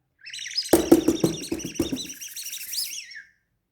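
Birds chirping with a quick flurry of bright tweets and whistles over a few low knocks, close and clear, then the calls fade into silence.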